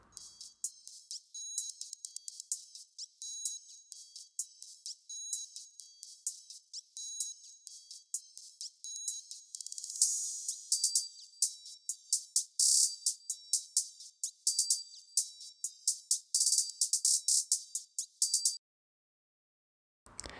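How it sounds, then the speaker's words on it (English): Music track filtered down to its bright top band, leaving thin, hissy snare cracks, cymbal wash and ticking hi-hat in a steady rhythm, faint and airy, ending abruptly near the end. "you can really hear the high end of that snare now, and the cymbal, and the hi-hat"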